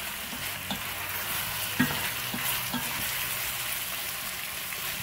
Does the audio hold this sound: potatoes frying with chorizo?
yes